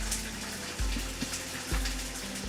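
Catalina dressing glugs from a bottle into a bowl, a short thick pour with a couple of soft gulping pulses, close and fairly quiet.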